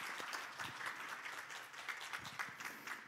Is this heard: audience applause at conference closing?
yes